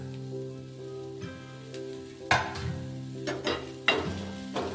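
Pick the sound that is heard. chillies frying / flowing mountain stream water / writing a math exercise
chillies frying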